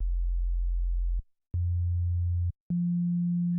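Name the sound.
sine wave tone from U-he Zebra synthesizer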